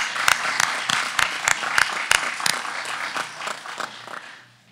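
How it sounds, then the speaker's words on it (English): A meeting audience at a credit union annual general meeting claps for a presenter, a loud burst of distinct, fairly sparse hand claps close by that thins out and fades away at the end. "Let's give him another round of applause"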